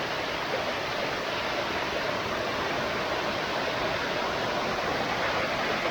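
Steady, full-bodied roar of a waterfall at a hidden falls in Surigao del Norte, a continuous dense wash of falling water close by with no breaks and no voices.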